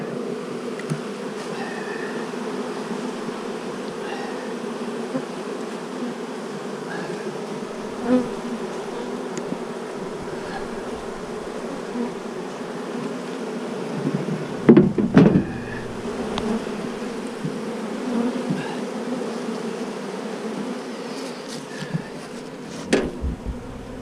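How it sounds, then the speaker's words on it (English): A dense, continuous buzz of many honey bees swarms close by around a hive being smoked, steady throughout, with occasional clunks and taps of beekeeping equipment. "Let me smoke these bees down a little bit"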